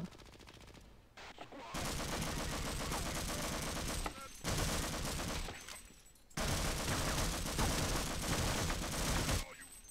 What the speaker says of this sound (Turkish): Sıkıyorum sıkıyorum ölmüyor.